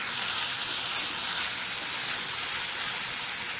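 Small cut chicken pieces fry in a pan, giving a steady, dense sizzle and crackle that holds at an even level throughout with no talking.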